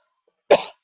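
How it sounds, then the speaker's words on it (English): A single short, dry cough from an adult, close and fairly quiet, in an otherwise silent room. "just got a cough"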